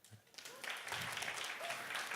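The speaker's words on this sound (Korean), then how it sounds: "박수 한번 주세요." A church service congregation breaks into applause, a brief burst of clapping that swells and holds at moderate volume, somewhat distant and diffuse in the hall.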